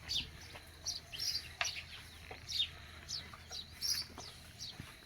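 Sparrows chirp in quick, bright bursts while they come down to peck at scattered grain. The calls are fairly faint and spread across the whole stretch, with no voices.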